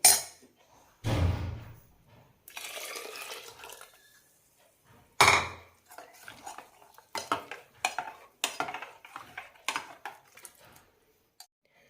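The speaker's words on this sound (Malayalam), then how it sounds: "ഇതിലേക്ക് പാൽ ഒഴിക്കാം." Milk poured into a pot of simmering cumin rice porridge, with sharp metal clinks of a ladle and utensils striking the pot between bursts of pouring and stirring, close and fairly loud.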